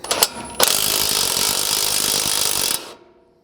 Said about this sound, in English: you can switch to an impact to start backing it out a little further